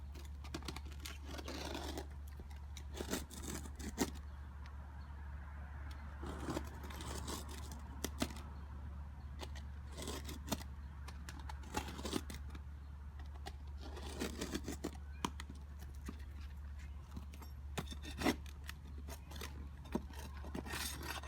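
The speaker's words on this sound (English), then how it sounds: "I have to take my utility knife and I have to cut out the damaged shingle." A utility knife cutting out a damaged roof shingle, repeated rough scraping and slicing strokes in an irregular rhythm over a low steady hum, close and fairly quiet.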